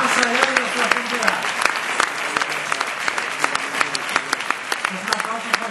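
Sustained audience applause at a national marketing awards ceremony, a dense wash of many hands clapping with sharp individual claps standing out, while a voice talks over it.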